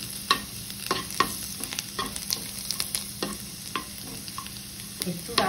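Garlic frying in a home kitchen pan, a steady low sizzle broken by repeated scraping stirs of a utensil against the pan, close and fairly quiet.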